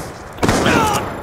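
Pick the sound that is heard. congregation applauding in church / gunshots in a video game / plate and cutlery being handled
gunshots in a video game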